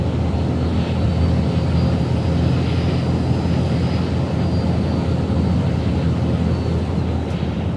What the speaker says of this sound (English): Like, hear that turbo?